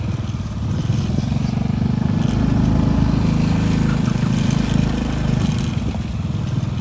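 A motorcycle engine runs steadily close by during a first riding practice, a loud rhythmic low rumble that swells slightly midway, with no talk.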